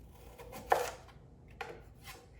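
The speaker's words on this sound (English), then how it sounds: "So I'm gonna continue getting these chopped up" A knife chops through apples on a cutting board in a quiet kitchen: a few sparse, crisp strikes spaced apart, the second landing softer than the first.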